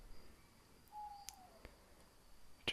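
A single faint whistled bird call glides downward outdoors in a quiet natural setting, with a few soft clicks and rustles nearby.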